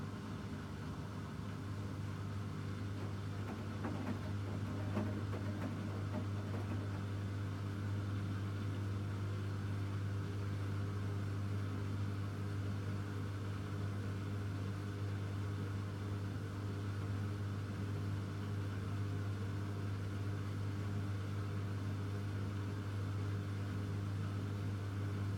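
A Bosch Serie 8 WAYH8790GB washing machine runs its final spin on the SuperQuick 15 40° cycle, giving a steady low motor hum and drum rumble at a constant level throughout.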